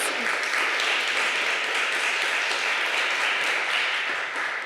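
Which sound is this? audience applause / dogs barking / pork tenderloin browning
audience applause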